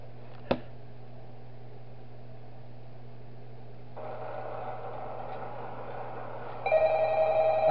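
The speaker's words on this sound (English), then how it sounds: "Alright, we get a phone call." A telephone in the Shadow Chaos Pizzeria video game starts ringing after a single sharp click, a steady electronic tone rising over a low hum at the end.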